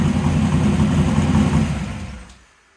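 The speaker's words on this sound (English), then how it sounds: "fired it back up to heat cycle the rings" A 421 small block V8 running in a truck, started up again after cooling to heat cycle the rings, rumbles steadily and loudly up close, then fades away over the last second.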